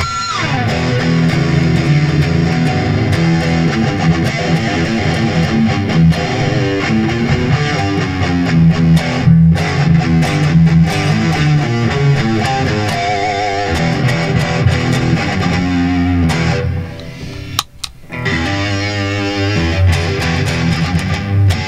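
Electric guitar played through a JHS Colour Box distortion pedal, a loud sustained stream of overdriven chords and notes that cuts out briefly near the end before resuming.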